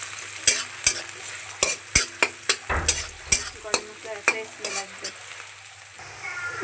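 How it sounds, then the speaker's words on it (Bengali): Whole cinnamon, cardamom and bay leaves frying in a pan, Bengali village-style cooking, with a soft sizzle under repeated sharp scrapes and clacks of a spoon stirring at an uneven rhythm, close and fairly quiet. "দারচিনি এলাচি এবং তেজপাতা দিয়ে ভালোভাবে ভাজি নেব"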